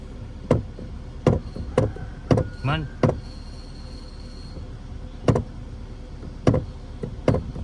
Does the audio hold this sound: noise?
yes